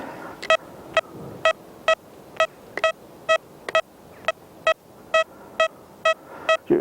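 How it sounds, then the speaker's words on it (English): A Deus metal detector signalling over a hammered penny buried ten inches deep in soil, a regular series of short clear electronic beeps repeating about twice a second against a faint background hiss. "As you can hear, it's faint, but it's a good solid signal on a hammered penny at 10 inches."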